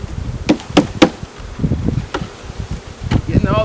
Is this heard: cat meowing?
no